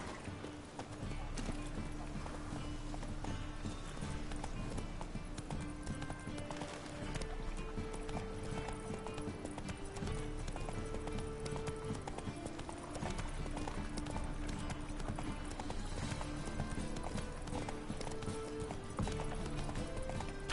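A horse gallops steadily in a PS4 video game, with rapid rhythmic hoofbeats running continuously over game music and ambience, close and constant throughout.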